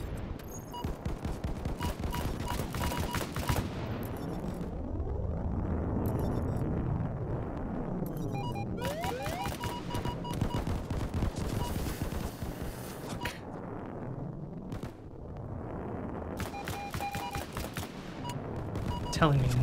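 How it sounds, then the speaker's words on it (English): Many explosions and rapid gunfire from cargo being hit in a tabletop game session, loud and dense for the whole stretch, with booming blasts and crackling bursts that swell and fade in waves. "That's a lot of explosions."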